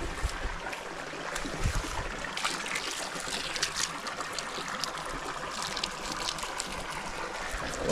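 Water flowing in the Nyantonyo river, a steady trickling and gurgling stream heard close, fairly faint and continuous, with no voices.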